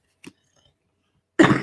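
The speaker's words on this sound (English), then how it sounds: "just clearing my throat" A single short throat clear, heard close and fairly loud after a brief faint noise and a quiet pause.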